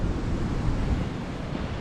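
Waves wash steadily onto Carvalho Beach in the Algarve, Portugal, a loud continuous surf roar mixed with heavy wind buffeting the microphone, with no voices.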